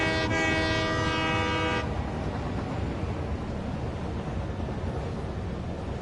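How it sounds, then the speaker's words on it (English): Train horn honking in the video game Satisfactory: a loud, sustained multi-tone blast for about two seconds, followed by a steady rumbling of the moving train with no talking. "I'm pretty sure there's actually a standard to how trains honk their horns."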